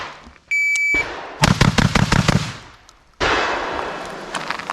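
A Beretta 1301 Tactical LE shotgun fired rapidly at close range, a quick string of about six loud, sharp blasts in tight succession, with noisy outdoor wind surrounding the shots.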